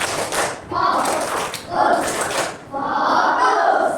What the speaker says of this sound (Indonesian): Baik, sebelum belajar kita tepuk fokus dulu. Tepuk fokus.